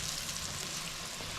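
Steady, close sizzling and crackling of eggplant frying in hot oil in a cast iron skillet, an even hiss with small pops throughout.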